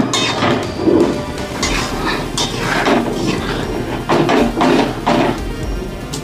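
Metal lid set onto a cooking pot of coriander chicken with green chillies, giving several clinks and knocks spread over a few seconds amid kitchen clatter, no talk.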